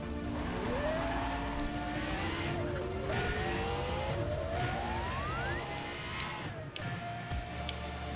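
A Pagani Zonda F driven in the racing game Need for Speed World, its engine note climbing steadily through a long rev, then dropping at a gear change, with tire squeal and a constant loud roar.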